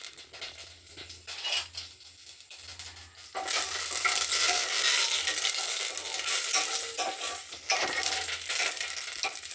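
Curry leaves hit hot oil in a pan with chillies, bursting into a loud, steady sizzle partway through that continues without a break after a quieter stretch of light stirring.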